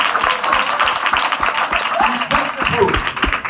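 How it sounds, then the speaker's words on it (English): Scattered audience clapping and cheering mixed with lively voices and exclamations, fairly loud and close, with no single clear burst of applause. "You can clap it up for that."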